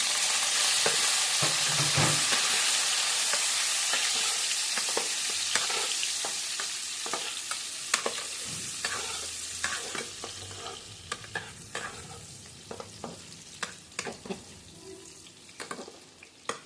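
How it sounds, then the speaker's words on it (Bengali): Boiled new local potatoes tipped into a pan of reddened fried onions, hissing with a loud steady sizzle that gradually settles while a spoon scrapes and clicks repeatedly as they are stirred; no speech. "এখন সিদ্ধ করে আলুটা দিয়ে দিচ্ছি"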